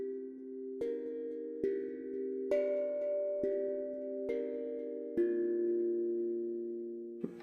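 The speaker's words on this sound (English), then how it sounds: "They're really sort of bell sounding tones that we're dealing with here." Bell-like tones from Ample Sound's cloud drum virtual instrument played in Logic Pro X, seven clean struck notes at a slow, even pace, each ringing on and overlapping the next, clear and fairly quiet with no voices.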